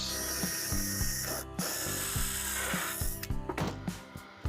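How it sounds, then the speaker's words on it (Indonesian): A drill with a 22 mm bit bores through wood, grinding in rhythmic, pulsing bursts at a close, moderate level. "Sekarang pakai mata bor yang tadi 22 mili guys."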